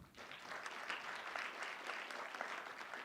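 Steady applause from an audience at a spring graduate hooding ceremony for public health master's students, clapping sustained and even throughout, fairly soft and somewhat distant.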